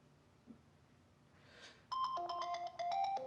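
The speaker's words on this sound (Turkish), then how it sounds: "Bir dur bakayım telefonu çalıyor galiba." A mobile phone ringtone starts up indoors, a bright repeating electronic melody of rising and falling tones, loud and close, after a quiet stretch with a brief soft rustle.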